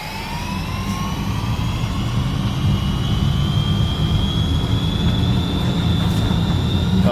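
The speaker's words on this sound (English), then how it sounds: "the jet noise, the screech starts first, and then the jet noise is the motor spinning up even more" Electric car motor in Forza Horizon 5 spinning up, a steady rising whine layered over a low rumbling drone, loud and continuous with no talk.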